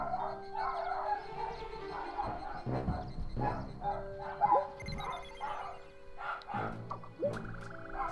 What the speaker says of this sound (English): Oh my god, the dogs won't shut the hell up.